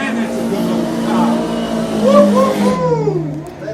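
A drift car engine roars at high revs near a wall at a D1NZ drift round, holding a loud steady pitch and then dropping away, with commentators talking over it.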